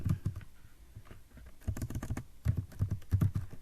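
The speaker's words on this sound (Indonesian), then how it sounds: "Jadi misalnya kita ketik hello world" Someone types on a computer keyboard while entering the phrase "hello world" during a basic HTML tutorial: quick irregular bursts of close key clicks, loud and alone, with short pauses between runs of keystrokes.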